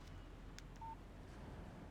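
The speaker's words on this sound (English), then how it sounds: "Text message from Barry." A phone in the Alan Wake video game gives a short, faint electronic text message alert beep amid quiet background ambience.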